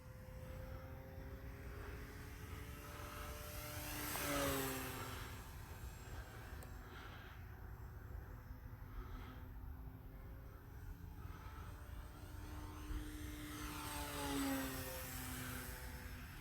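A radio-controlled P-51 Mustang model plane flies overhead, its engine drone rising and falling as it makes two distinct passes, fairly distant and steady, with no talking.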